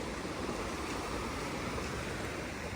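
Rough water with waves washing near the shore at Catalina Island, California, heard as a steady, dense broadband wash with no clear individual breaks and some wind noise.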